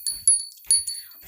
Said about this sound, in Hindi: मैं घंटी लेने गई थी